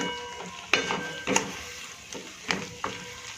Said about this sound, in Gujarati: આને આપણે ધીમે ચલાવીશું. આ રીતે મિક્સ કરી દઈશું.